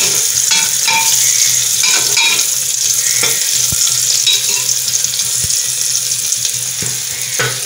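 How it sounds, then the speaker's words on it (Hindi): Onions sizzle steadily in a hot pan on high flame for a chana and aloo dish, with repeated scraping and clattering strokes of a spoon stirring them throughout. "फ्रेंड्स, प्याज फ्राई हो चुका है"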